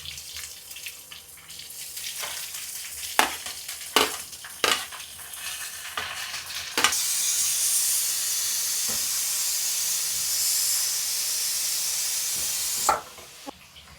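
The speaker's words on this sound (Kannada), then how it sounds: "ಈಗ ಆನಿಯನ್ ಹಾಕೋಣ." Onions sizzling in a hot pan for dal khichdi, a steady broad hiss that swells loudly midway and is broken by scattered clinks and stirring taps, heard close with no talk.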